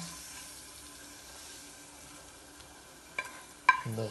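Garlic and pineapple frying in oil for a chutney make a faint, steady sizzle close by, with a few clinks of stirring and a louder scrape near the end.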